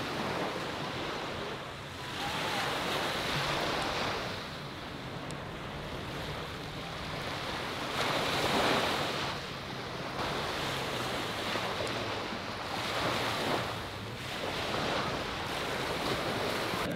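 Ocean waves roll onto a beach in a steady loud wash of surf that swells and recedes every few seconds, with wind buffeting the microphone and no talk.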